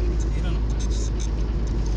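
A car climbs a hill on an outing to countryside cabins, its engine giving a steady low rumble inside the cabin while people talk over it.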